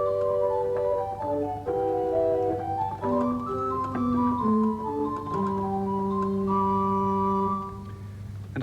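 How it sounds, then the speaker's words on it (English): A pipe organ flute stop plays a gentle melody over a held low bass note, soft, pure, hollow tones moving stepwise, smooth and even throughout with no talking. "But if I take a flute, it sounds like this."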